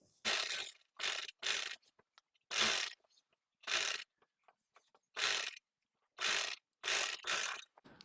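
A sewing machine stitches an understitch along the lining of a suit in about nine short, loud whirring bursts separated by quiet pauses.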